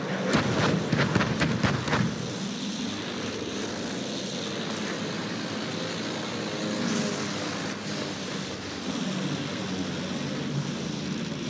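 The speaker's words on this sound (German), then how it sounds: "Flugzeug, seht ihr das?" An enemy aircraft passes overhead in Battlefield 1, a loud droning propeller engine with a swelling roar that holds steady and then fades slightly, over general battlefield din.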